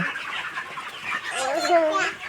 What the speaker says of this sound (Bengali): আবার মুরগি ডাক দিতেছে